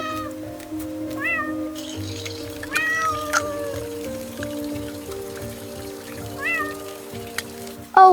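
A small wet kitten meows repeatedly under a park bench in the rain, several thin rising cries spaced apart over a steady patter of raindrops and a low sustained background tone.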